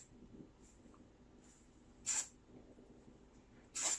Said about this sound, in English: So I'm just gonna spray it in on my roots.